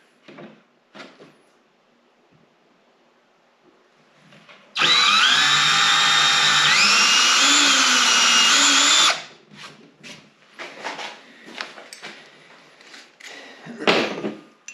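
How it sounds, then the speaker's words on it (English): A power drill bores a small pilot hole in a Ski-Doo snowmobile ski for carbide runners, a loud steady whine for about four seconds with the pitch shifting as it cuts, between quieter handling clatter and brief talk. "I'm going to go with a smaller drill bit first just to get a pilot hole"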